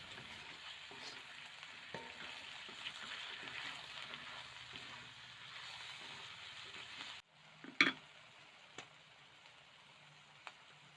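Cauliflower stir-fries with wood ear mushrooms and spring onion in a hot pan, a steady close sizzle that cuts off abruptly, followed by a few clinks of a utensil.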